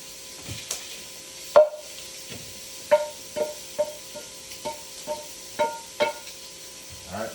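Cooked vegetables being scraped out of a frying pan, a dozen or so close, distinct knocks and scrapes of a utensil on the pan that come in an uneven rhythm, ending with a heavier clatter.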